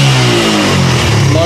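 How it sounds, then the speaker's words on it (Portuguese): A Suzuki Yes motorcycle, recently given a carburetor cleaning, its small engine running loud and close with a steady throbbing tone that rises slightly as the throttle opens, filling the whole moment. "A motinha tá ficando na lenta, tranquilo. Se acelera, ó."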